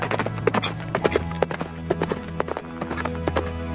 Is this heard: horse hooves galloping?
yes